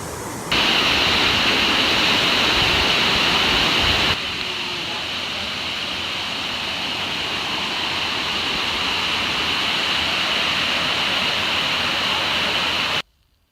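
Continuous loud rushing of a waterfall heard from right in front of it along a hiking trail, a thick even roar that cuts off abruptly at the end.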